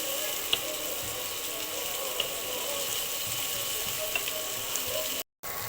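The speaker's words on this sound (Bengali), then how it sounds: "এখন এখানে এই যে রসুন কুচি, আদা কুচি, এই দুটো আগে ভালো করে ভেজে নেব।" Chopped garlic and ginger frying in a pan for a home-cooked rice dish, a steady soft sizzle holding at an even level with a few faint clicks, then a brief dropout near the end.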